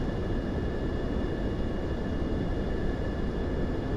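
Plane taxiing on the ground in Microsoft Flight Simulator 2024, a constant loud engine drone with a steady broadband rumble and faint high whine, no voices.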